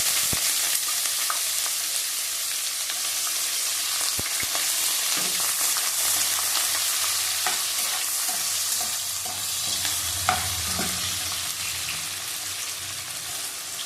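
Sliced onions and a dried red chilli frying in oil for a mutton kosha, with a steady close sizzle throughout and occasional scraping stirs and light knocks of the spatula against the pan; no one speaks.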